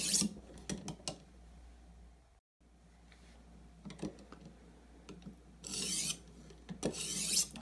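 A knife blade gets cleaning passes on a 600 grit sharpening stone, with faint, close scraping strokes in short uneven bursts separated by quiet pauses, and a couple of longer, hissier passes near the end.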